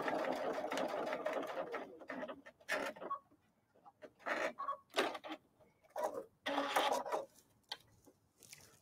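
Sewing machine stitching a teddy bear in short bursts of fast mechanical whirring, starting and stopping repeatedly, close and clear, with brief quiet gaps between runs.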